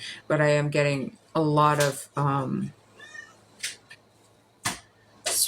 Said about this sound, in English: If you can hear her meowing, she is hungry and wants a treat.